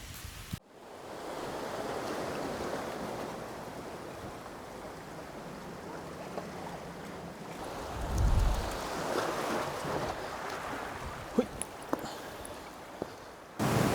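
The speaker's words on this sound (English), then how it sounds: "today I'm out at the beach" Ocean waves wash onto a beach in a continuous soft roar with gentle wind, building into a louder surge of breaking surf about halfway through before settling back.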